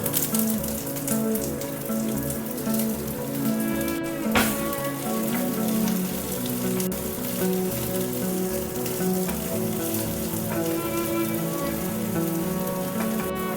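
Chopped onion with garlic and ginger frying in a pan until golden, a dense, steady crackling sizzle throughout with occasional louder pops, close and without voices.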